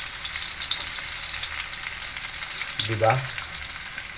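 Garlic and onion sautéing together in a hot pan, a loud, dense, continuous sizzle held steady throughout, with a brief spoken word breaking in near the end.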